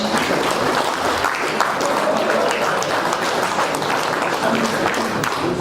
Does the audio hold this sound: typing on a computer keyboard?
no